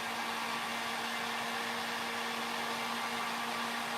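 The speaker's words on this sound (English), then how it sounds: "grab your heat gun once more" A heat gun blows hot air steadily to activate glue along a seam on an upcycling project, a constant close whooshing hum with a faint tonal whine.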